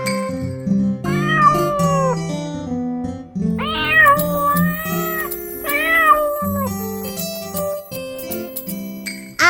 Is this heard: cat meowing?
yes